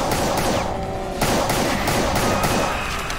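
Pistol gunshots in SIGIL, a Doom episode: loud, rapid, overlapping shots and blasts fill the whole moment in a dense, continuous barrage.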